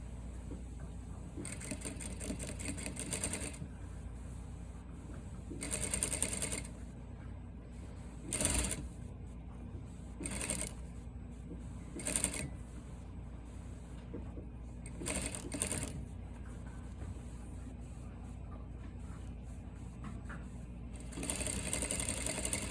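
A sewing machine stitches a princess seam up to the armhole without pins, running in repeated loud bursts separated by short pauses, close and steady.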